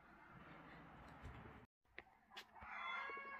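A hen clucks in a Romanian village yard, a few short close clucks and squawks separated by a brief silent gap, with faint rustling and a steady outdoor background and no one talking.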